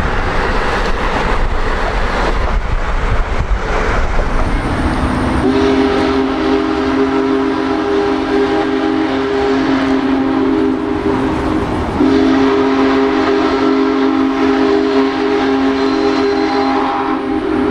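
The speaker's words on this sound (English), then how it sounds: "Union Pacific 4014 is going to be crossing on that bridge." Union Pacific Big Boy 4014, a huge steam locomotive, rumbles across a railroad bridge and sounds a loud, sustained steam whistle in two long blasts over heavy rolling rail noise.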